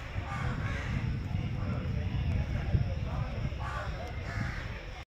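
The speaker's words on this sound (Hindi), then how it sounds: "परिंदे चहचहा रहे हैं जी।" Crows caw and birds call at Golra Sharif railway station in Pakistan, a quiet, clean platform with steady outdoor ambience and a voice speaking beneath the calls.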